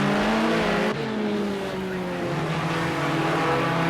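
Race cars in Project Cars 2 roar around the Long Beach circuit, with a loud engine droning close by and rising and falling as it shifts gears, plus a faint tire squeal.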